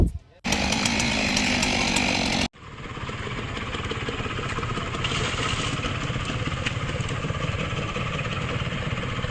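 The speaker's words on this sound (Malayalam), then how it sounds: "എന്തിനാണ് മരം ഇങ്ങനെ മുറിക്കുന്നത്" A chainsaw cutting up a fallen roadside tree during a fire force and local clearance effort, a loud, steady high-pitched engine whine that drops out briefly, then continues running at a slightly lower, sustained drone.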